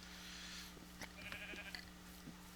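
Faint Minecraft sheep bleat a few times, short scattered calls over a steady low hum of game background, with no voices.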